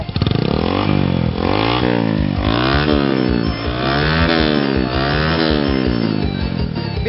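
A motorcycle engine revs loud and close as the throttle is twisted repeatedly, its pitch climbing and falling in steady waves without a break and with no talking.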